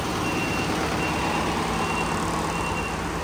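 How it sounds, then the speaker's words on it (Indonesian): A city tour bus in Ocean City, Maryland sounds faint, evenly spaced reversing beeps through a constant wash of outdoor traffic and wind noise. "Ternyata ada bis keliling dong"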